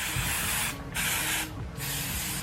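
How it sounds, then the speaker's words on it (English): Hairspray from an aerosol can sprayed onto hair in three long hissing bursts separated by short pauses, close and loud, with no talking. "Next step, hairspray."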